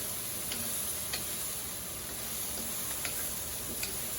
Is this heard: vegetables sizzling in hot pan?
yes